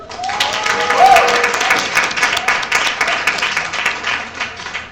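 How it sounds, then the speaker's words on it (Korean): An audience at a book concert claps to encourage a cellist about to act out a charades-style puzzle, a few seconds of lively, dense clapping that swells early and then tapers, with a brief voice near the start. "우리 오빠 잘하라고 박수!"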